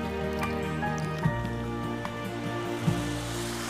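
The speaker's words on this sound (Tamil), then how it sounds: "இந்த ரெண்டு கரைசலையும் நாம் தனித்தனியாக வடிகட்டி எடுத்துக்கிறோம்." Neem seed and neem cake solutions strained through a filter, giving a soft wet trickle with a few squishy drips and splashes over a steady background hum.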